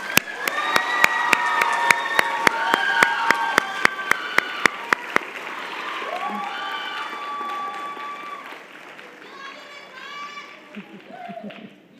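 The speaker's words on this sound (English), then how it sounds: "Let's give them a big round of applause" Audience applause at a university nursing pinning ceremony, with a run of sharp claps at the start giving way to a steady crowd and some cheering voices, music-like tones and talk above it in the second half.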